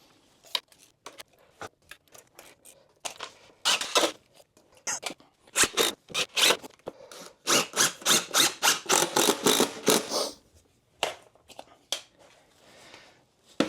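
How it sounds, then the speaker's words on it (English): Screws being driven to fasten a drill press down onto a customized US General Harbor Freight end cabinet stand, with bursts of ratcheting, gear-like whirring in close, repeated short pulses and quiet pauses between them. "Now I'm just going to center this up on here and screw it down fast."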